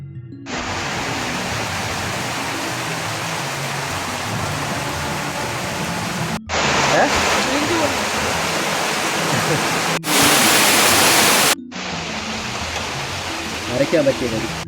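A steady roar of heavy rain fills the recording, heard from under a shed on a hill trip, with abrupt shifts in loudness and texture, and a voice occasionally audible beneath the downpour.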